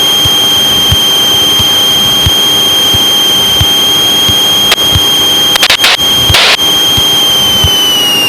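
Close, loud and steady drone of a Cessna 185 piston engine at 2500 RPM, heard from inside the cockpit during a flight in gusty wind, with a few brief knocks and rattles.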